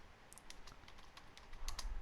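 Someone types a JavaScript console log line on a computer keyboard, giving a short scatter of soft, close keystrokes. The clicks are faint and come over a quiet room hiss.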